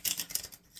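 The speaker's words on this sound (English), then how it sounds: "Let's shuffle this tarot to get this reading started" Tarot cards are shuffled close up in a quick series of crisp, papery riffling snaps that fade over less than a second, with no voice.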